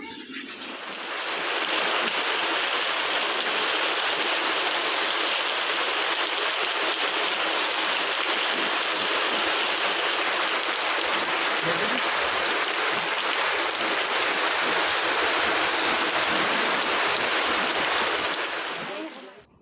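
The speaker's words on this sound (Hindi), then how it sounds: "समझ सकते हैं कितनी तेज़ बारिश हो रही है।" Heavy rain pours steadily during a downpour, heard from indoors near a rooftop, a dense, loud, continuous hiss with no break in intensity throughout.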